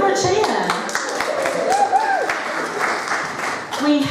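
A game show studio audience cheers and applauds a contestant, a dense wash of clapping and whoops running steadily under a host's talk.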